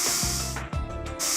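Forensic spray hissing in the video game Trauma Team, two or three short bursts of broadband spray with low musical tones underneath, close and fairly loud.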